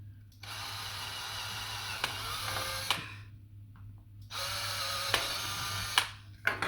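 A drill bores holes in a PS5 DualSense controller shell. Two sustained stretches of whining drilling are split by a short pause, with sharp clicks and ticks along the way, at moderate loudness and with no talking.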